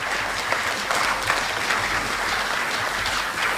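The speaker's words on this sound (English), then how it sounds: "it deserves a round of applause indeed" An audience at a credit union's annual general meeting gives a steady round of applause, a dense, continuous clatter of many hands at an even level throughout.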